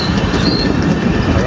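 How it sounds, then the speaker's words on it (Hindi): The Ajmer Puri Superfast Express rushes past, heard from aboard another train as a loud, steady roar of rumbling carriages with faint wheel squeal throughout. "Ajmer Puri superfast express crossing."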